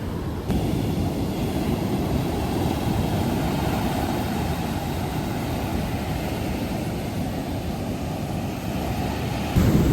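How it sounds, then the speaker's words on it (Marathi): Sea waves roll in at Alappuzha beach with a continuous, loud roar of surf that barely rises or falls throughout. "कसल्या लाटा येतात राव मस्त अशा"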